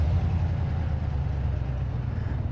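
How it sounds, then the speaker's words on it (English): A Chevrolet Silverado 1500 High Country pickup truck running just after a remote start, its engine settling into a deep, steady idle that rumbles close by with no talk over it. "So we're gonna try to remote start this truck right now"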